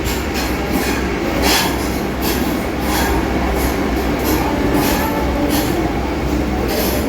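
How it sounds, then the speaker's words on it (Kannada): A Vande Bharat train departs near Hubli, a loud steady rumble of wheels on rails with rhythmic clicking over joints and faint squeal, heard close throughout with no speech. "ಒಂದೇ ಭಾರತ ಟ್ರೈನ್ ಹೊಂಟೈತಿ ಆಲ್ರೆಡಿ"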